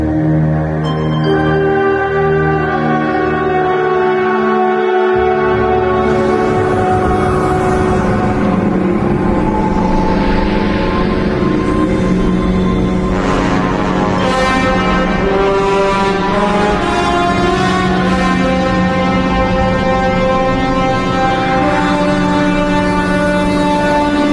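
Dense, droning electronic synthesizer tones layered into a thick, sustained wall of sound that swells and shifts texture throughout.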